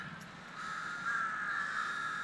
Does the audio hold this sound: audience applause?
no